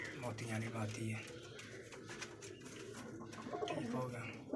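Large white pigeon cooing in a loft, low throaty coos repeating near the mic while someone talks over them almost throughout.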